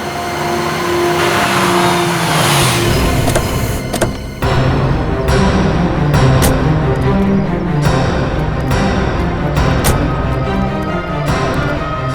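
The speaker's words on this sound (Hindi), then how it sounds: "बस आप यहीं गाड़ी रोक दीजिए।" A car engine hums loud and close in a Hindi police crime drama scene. The pitch shifts early on as the vehicle slows, then the engine settles into a steady running drone.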